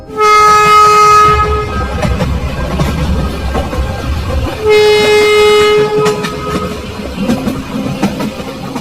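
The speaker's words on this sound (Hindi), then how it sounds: "तभी ये ट्रेन शुरू हो जाती है।" A cartoon train starts moving with two loud horn toots, one at the start and another midway, over a rumbling, clattering rail sound, close and alone without talk.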